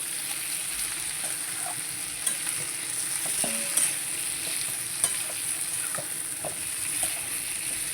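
Spice masala for a chicken and potato curry fries and is stirred in a pan, with a steady close sizzle and scattered scraping stirs over eight seconds.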